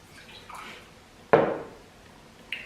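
Water is poured into sugar in a kitchen while making homemade sugar hair-removal wax, a short soft splash with faint clinks before and after, quiet and close.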